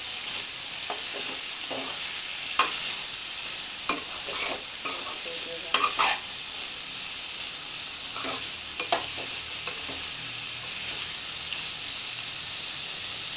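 A mixed vegetable sabzi sizzles in a pan, with a steady frying hiss and a few scattered spoon scrapes and clicks as it is stirred, moderately loud and close, without any talking.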